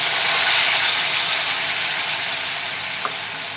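Tomato puree hits hot oil and frying spices in a pan for a cauliflower-potato curry, giving a loud, steady broadband sizzle that slowly eases, with a faint clink near the end and no talking.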